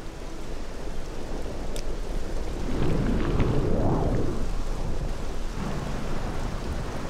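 Thunder rolls and swells through a steady wash of rain from a rain cloud in the Morrowind video game, with a loud rumble building near the middle before easing back into the downpour.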